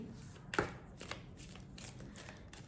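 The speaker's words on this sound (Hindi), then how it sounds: "Let me shuffle the cards again." Tarot cards shuffled by hand in a quiet room: a brief riffle snap near the start, then soft, faint card rustling.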